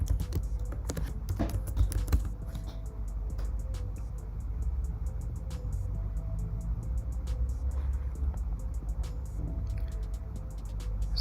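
Keys clicking on a Mac keyboard while a password is typed, a steady run of soft close taps over a low background hum.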